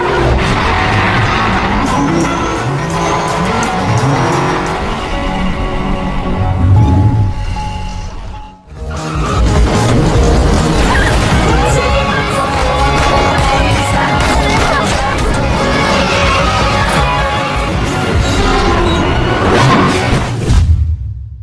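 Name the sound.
car pushed off a building in the film Baby Driver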